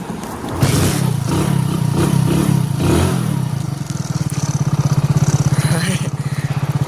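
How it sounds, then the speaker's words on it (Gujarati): A stalled bike's engine sputters back to life, a chugging mid-range roar that settles into a fast, steady idle putter, close and loud with voices talking over the start. "ચાલુ થઈ ગઈ છે પણ ચાલુમાં ફાવતી નથી બાઇક"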